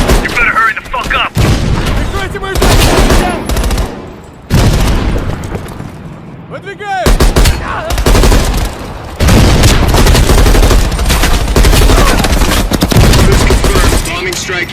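Heavy machine gun fire during a wartime battle, loud sustained bursts of gunfire mixed with booms and explosions, nearly continuous, with shouted voices breaking through at times.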